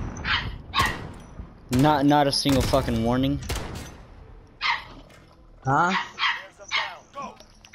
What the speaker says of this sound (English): Get your dogs under control.